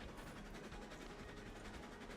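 A passing train makes a steady, continuous rumble with a faint rhythmic clatter throughout, fairly quiet and with no voices.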